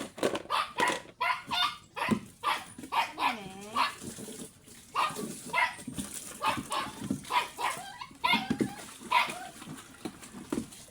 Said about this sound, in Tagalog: ingay ng aking lagang aso